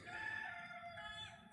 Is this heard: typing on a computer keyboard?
no